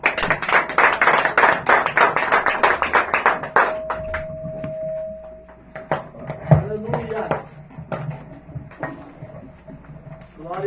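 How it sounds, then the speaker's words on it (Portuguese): A church congregation claps in a quick, even rhythm that fades out. Scattered taps, a sustained tone and voices follow. "Vamos receber o céu de Deus com umas palmas."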